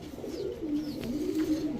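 A pair of Kaldum pigeons coo softly nearby in a low, throaty, rolling murmur that goes on throughout.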